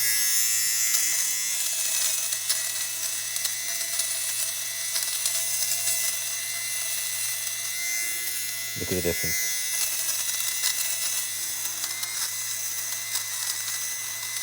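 A Philips GC026/80 bobble remover shaving bobbles off a wool jacket, a steady close electric buzzing hum that runs throughout with a brief change in tone midway, while someone speaks briefly over it.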